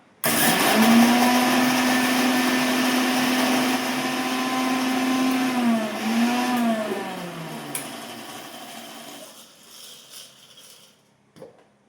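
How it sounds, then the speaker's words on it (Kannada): A kitchen mixer grinder grinds four green chillies into a coarse paste, a steady high motor whine that wavers and dips partway through, then winds down and stops, leaving a few faint clicks. "ಮಿಕ್ಸಿ ಜಾರಿಗೆ ನಾನು 4 ಮೆಣಸಿನ್ಕಾಯಿ ಹಾಕ್ಕೊತಾ ಇದ್ದೀನಿ. ರುಬ್ಕೊಳ್ಳೋಣ."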